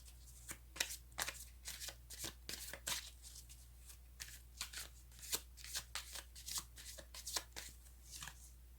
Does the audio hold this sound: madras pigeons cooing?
no